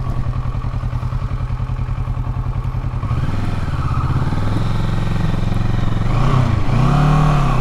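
A motorcycle ridden through a residential subdivision, its engine chugging steadily, then revving up and dropping back as gears shift, loud and close throughout with no talking.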